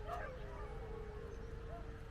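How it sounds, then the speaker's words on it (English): Dogs bark and yip at a dam, a steady, fairly distant chorus of barking and whimpering under continuous background noise. "You can see lots of barking,"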